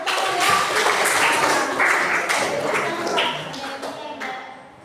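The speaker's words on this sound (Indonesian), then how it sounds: "Oke, tepuk tangan ya." Applause from a school audience after a biology lesson presentation, a dense, steady patter of many hands clapping close by for several seconds before tapering off.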